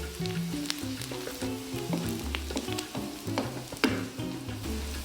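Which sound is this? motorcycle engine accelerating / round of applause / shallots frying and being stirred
shallots frying and being stirred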